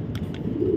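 Male racer pigeon in a pigeon loft, giving low, throaty coos that roll continuously near the microphone, with two faint high chirps briefly on top.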